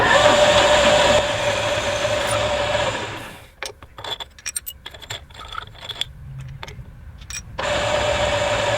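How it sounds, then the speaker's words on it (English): A power drill with a 1/4 inch bit whines at high speed through metal, stops for a stretch of clicking and handling sounds, then starts up again, close and loud. "I'm going to put a 1/4 inch bit through it first, and then come back with a 1/2 inch"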